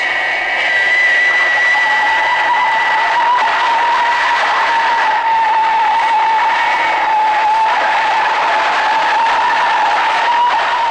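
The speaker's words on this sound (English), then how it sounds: "Hold tight, Fireflash. Applying maximum brakes." Thunderbirds Fireflash aircraft under maximum braking on a runway, tires skidding in a sustained, loud screech with a steady high squeal layered over rushing roar, continuous for the whole stretch with no talk.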